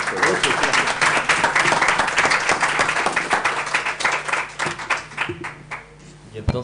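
Audience applause closes an academic lecture on criminal law hosted by a university criminal sciences department: dense, steady clapping from a sizable room that thins and fades toward the end, with some voices mixed in.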